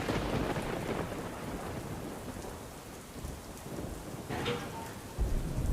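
Heavy afternoon rain falls over the urban streets of Surendranagar in a steady wash, with low rumbles of thunder rolling underneath and swelling again toward the end.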